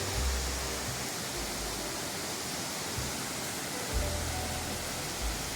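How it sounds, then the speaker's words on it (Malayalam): The Kattikkayam waterfall in Illikkalkallu drops from a great height, giving a steady broadband roar that stays even and unbroken, with occasional low wind rumble and no voices. "നല്ല ഉയരത്തിൽ നിന്നാണ് ഈ വെള്ളം താഴോട്ട് ഒതുങ്ങുന്നത്."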